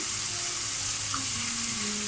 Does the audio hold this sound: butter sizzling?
yes